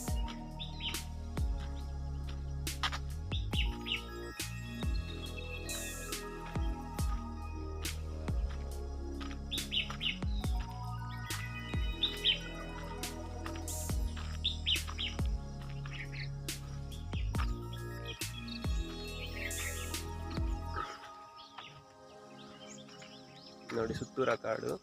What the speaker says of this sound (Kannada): ಹಕ್ಕಿಗಳು ಸದ್ದುಗಳು ನೋಡ್ಕೊಳ್ಳಿ ನೀವು.